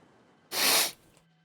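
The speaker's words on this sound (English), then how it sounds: "Those were some strong sneezes" A single strong, forceful sneeze bursts out close up, a broad hissing blast lasting about half a second, followed by quiet breathing.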